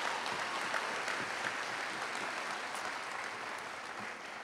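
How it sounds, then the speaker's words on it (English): Audience applause at a school cultural celebration, a steady dense wash of clapping from a crowd that holds evenly throughout and eases slightly at the end, with no talk over it. "Let's give them one more round of applause."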